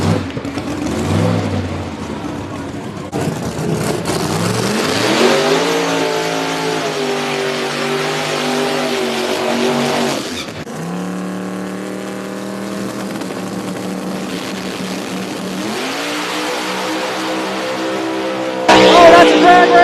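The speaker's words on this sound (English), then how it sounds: "Dave better hurry up and get up here and make a burnout and stage his car." A drag race car at a small-tire drag racing event doing a burnout and revving hard: loud sweeping engine roars that climb in pitch repeatedly, with tire hiss and abrupt cuts between bursts, close and overpowering.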